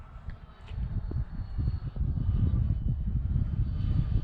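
A Freewing F-14 twin 80mm EDF radio-controlled jet with afterburner effects flies past on big battery packs, a loud rushing ducted-fan roar that rises and holds steady over several seconds, with wind buffeting and no talk.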